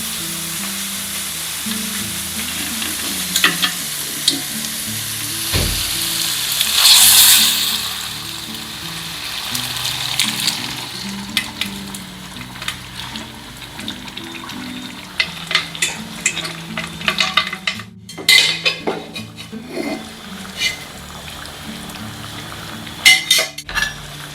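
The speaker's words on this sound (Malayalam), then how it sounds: "ഇതിലേക്ക് വേവിച്ച് വെച്ച ബീഫ് ആഡ് ചെയ്ത് കൊടുക്കാം." Boiled beef sizzles steadily in a hot pan while a utensil scrapes and clatters against the metal, with a loud burst of hissing early on.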